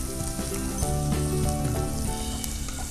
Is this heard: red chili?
yes